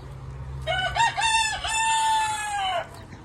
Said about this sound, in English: We've got a lot of chickens